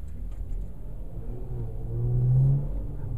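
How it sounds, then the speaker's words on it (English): A 2013 Hyundai Genesis Coupe with a 3.8-litre V6 of 345 horsepower rumbles deeply from inside the car, the low engine note swelling as it accelerates and then easing slightly. "I love the rumble that this engine gives"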